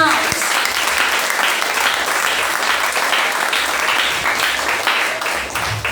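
A church congregation gives loud, sustained applause welcoming the pastor at a deliverance service, a dense, even roar of many clapping hands filling the room without pause.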